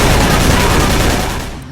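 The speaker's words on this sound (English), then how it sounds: "So now it's time to test out our Tommy gun." A Tommy gun fires in the video game Call of Cthulhu: Dark Corners of the Earth, a loud, close, continuous burst of rapid automatic shots that tapers slightly at the very end.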